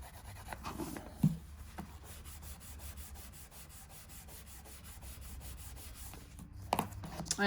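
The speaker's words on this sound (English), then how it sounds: "So that's graphite rubbing." Graphite rubbed back and forth across paper makes a soft, steady scratchy rasp, close and quiet, with a few louder taps near the start and the end.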